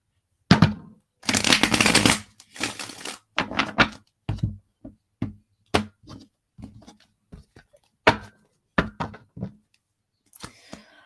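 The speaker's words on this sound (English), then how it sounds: "Let me get one more shuffle." A tarot deck is shuffled up close: a dense riffling burst at the start, then a series of separate soft card taps and slaps with short quiet gaps between them.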